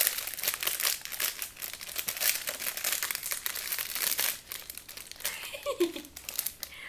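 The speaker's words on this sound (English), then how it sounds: "I just open the plastic" Plastic packaging crinkling and rustling as it is torn open, a close, steady run of crackles with brief tearing bursts, ending as a voice briefly cuts in over the last seconds.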